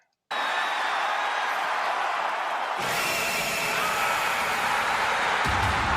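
A WWE wrestling crowd roars loudly for Paige's return, a dense, sustained wall of cheering that swells even louder partway through and keeps going without a break.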